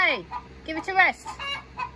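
A backyard hen clucks loudly and insistently, several rapid squawking calls in quick succession close to the listener, with a voice faintly mixed in.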